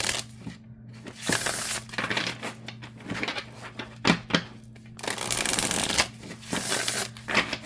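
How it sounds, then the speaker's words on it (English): Tarot cards are shuffled overhand in repeated crisp, papery bursts with short pauses between them, close up over a low steady hum. "Shuffles just fine. Overhand shuffles really nicely too."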